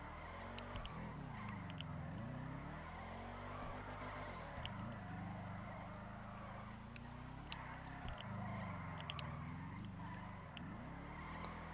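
Tires skid and squeal continuously as a car drifts in GTA Online on PS4, engine droning steadily with repeated rises and dips as the slide is held, loud and close with no talking.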